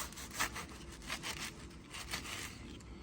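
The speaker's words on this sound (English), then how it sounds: "I'm just taking my toast and I'm cutting it in strips." A knife saws repeatedly through toasted bread, cutting it into strips with a steady back-and-forth scraping rhythm, close and moderately loud, with no voices.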